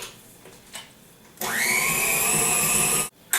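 An electric hand mixer with beaters whipping homemade Oreo cookie filling, switching on after a quiet pause into a loud steady whirring drone with a rising motor whine, then cutting off abruptly near the end.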